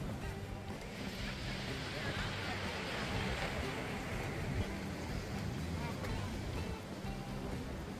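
Waves roll steadily onto Chennai's Marina Beach as a constant, broad wash of surf with some wind. The sound is fairly faint, and voices can be heard over it.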